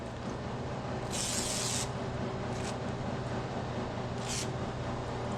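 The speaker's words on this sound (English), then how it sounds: "just get you some WD-40, which you probably already have around the house, and we're just going to hit this guy a little bit" Three short hissing bursts of WD-40 sprayed from a can onto rusty pliers, the first about a second long and the other two briefer, over a steady low background hum.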